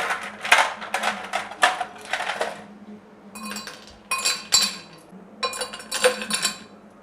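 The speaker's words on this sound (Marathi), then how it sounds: "त्यानंतर यामध्ये आपण बर्फाचे तुकडे आहेत ना ते घालूया।" Ice cubes dropped into a glass of fennel sherbet make bright clinks and rattles. They come in two clusters of quick, close, fairly loud knocks with short pauses between, and no voices.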